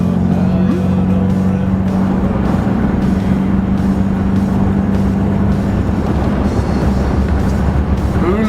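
A Volvo 144, non-turbo, accelerates hard along back roads near Athens, Ohio, its engine droning loud and steady from inside the car with a constant low rumble and rising roar throughout.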